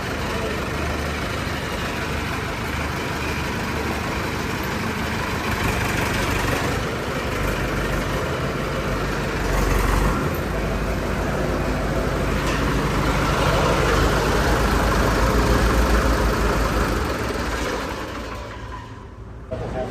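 A Swaraj tractor engine idles parked beside a shop, a loud, steady rumbling drone that holds for most of the time before easing off near the end, with faint talk underneath.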